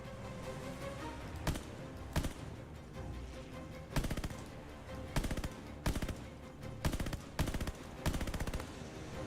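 Bursts of automatic gunfire and single shots crack out in Call of Duty Vanguard's Russian campaign, loud repeated volleys over a constant battle din with no talking.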